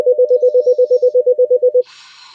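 Mobile phone ringtone, a loud rapid train of identical electronic beeps pulsing steadily for nearly two seconds, then cutting off into a faint higher hiss.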